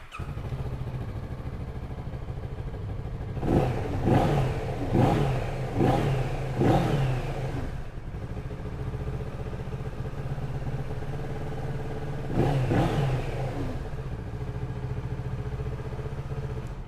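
Kawasaki Z650 Tourer motorcycle engine running with a series of sharp throttle blips in quick succession, then a pause and a couple more revs near the end, heard close and alone.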